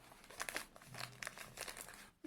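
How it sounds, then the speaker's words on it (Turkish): A box for Haylou GT1 Pro wireless earbuds is unfolded and opened, its packaging giving off close, quiet crinkling and rustling in short bursts with no talk. "Kutuyu böylese çarşaf gibi açıyorum."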